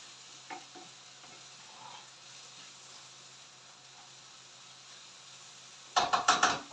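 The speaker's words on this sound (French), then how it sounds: "Je remue pour pas que ça crame de ce côté." Food being stirred in a pan to keep it from burning: faint scraping and a low hiss for several seconds, then a short, loud burst of rapid scraping strokes at the end.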